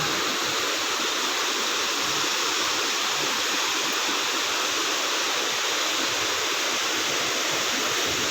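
Mag Aso Falls waterfall at Oringao, Kabankalan City, with clear flowing water, a steady, loud, unbroken broadband roar close by, with no talking.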